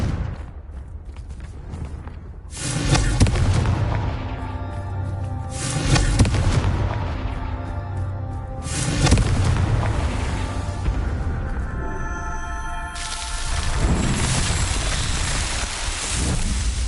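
Repeated loud magical spell blasts in Hogwarts Legacy on PS5, four heavy booming explosions roughly every three seconds, each with a rumbling tail and crackling debris over a steady background.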